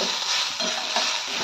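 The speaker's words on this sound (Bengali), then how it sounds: "ফুলকপির ডাঁটা ভাজা।" Cauliflower stalks fry in hot oil with garlic and dried red chillies, giving a steady close sizzle with faint stirring scrapes throughout.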